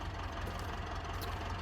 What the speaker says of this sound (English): Like the tractor's running